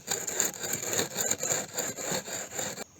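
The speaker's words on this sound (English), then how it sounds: "It's just taking away all the old rust and the discolored part of the axe." Rust is scrubbed off an old axe blade in the forest with rapid, rhythmic back-and-forth rasping strokes, close and fairly loud, stopping abruptly at the end.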